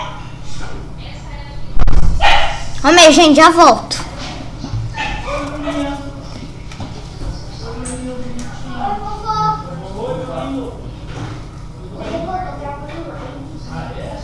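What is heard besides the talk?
pet dog barking and whimpering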